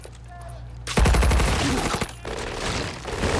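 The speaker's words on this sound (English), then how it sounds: "Ford and his men fire at the Germans" Gunfire as soldiers fire at German troops in a war film, a sudden loud burst of rapid overlapping shots breaking a quiet moment, then sustained volleys with a brief pause before more firing.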